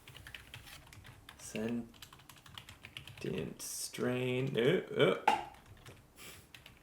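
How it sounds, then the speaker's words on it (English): Keys clatter on a computer keyboard in an irregular stream of quick taps while people talk over them, as card names are typed in during an Arkham card-game ranking session. "I'm just going to assume I'm typing it right"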